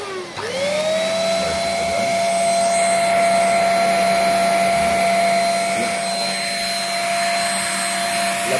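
A smarock S10 Pro wired anti-mite mattress vacuum cleaner runs at a steady, loud motor whine with a sustained high pitch, heard close and alone.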